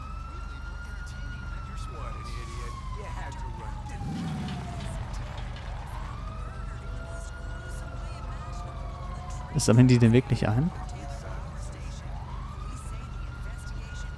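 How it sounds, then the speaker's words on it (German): In Grand Theft Auto V gameplay, a police-style siren wails in long sweeping rises and falls at moderate distance, with a deep engine drone beneath, a brief loud burst near the end, and someone talking over it. "Also ich höre eine Sirene, aber ich sehe nichts."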